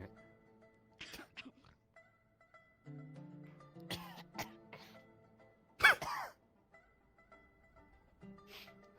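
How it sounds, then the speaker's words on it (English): Sharp, isolated cough bursts in a quiet room during a roleplay game session, one loud cough standing out near the middle among softer throat sounds and faint background tones. "Cough noise."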